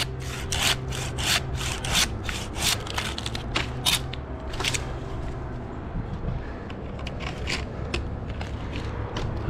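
Handsaw cutting through a felled white pine, a run of rhythmic rasping strokes at close range, fairly steady over a low outdoor background hum, with the strokes thinning out toward the end.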